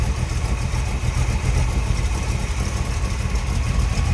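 A 1932 Ford Roadster street rod with headers and a four-barrel carburetor idles smoothly, a steady close engine rumble with no revving and no talking.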